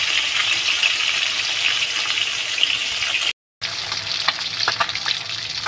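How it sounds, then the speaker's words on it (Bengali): Pieces of bhola fish fry in hot oil in a pan, giving a dense, steady crackling sizzle up close, briefly cut off by a short gap before resuming with sharper pops. "মাছগুলো দিয়ে এখন মাছগুলো আমি ভেজে নেব।"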